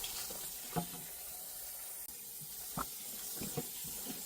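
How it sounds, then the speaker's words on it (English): Water runs from a tap over raw pork being washed for brown stew, a steady soft splashing with a few louder splats and sloshes as the meat is handled, and no one talking. "I'm gonna go right ahead and get some water on him"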